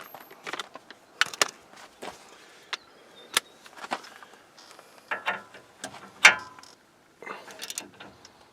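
A ratchet with a 22 socket tightens the castle nut on a Nissan Titan tie rod end, producing short, close bursts of sharp clicking separated by brief pauses.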